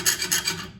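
Short rasping strokes of a fine saw blade cutting metal, about three quick back-and-forth passes close up, then it stops.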